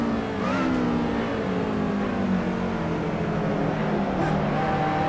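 A Lotus race car engine in Assetto Corsa drones steadily on the Barcelona circuit, a continuous buzzing whine with slight pitch shifts as the virtual car holds speed, loud and uninterrupted with no talking.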